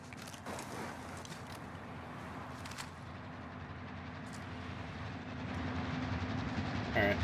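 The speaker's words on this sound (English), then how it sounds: "Here comes the train." In Call of Duty: Modern Warfare, a train rolls in with a steady mechanical rumble and hum that swells louder toward the end, alone without talk.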